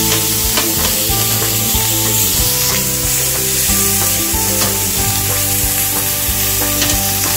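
Cooking oil sizzling loudly on a grill while sisig cooks, a dense continuous crackle and spatter up close with occasional scraping stirs and clinks, no one speaking.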